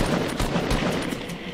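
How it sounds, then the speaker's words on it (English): Video game gunfire aimed at an enemy forms a loud, continuous burst of rapid shots with a pulsing rhythm across the whole brief moment. "We're gonna shoot this guy."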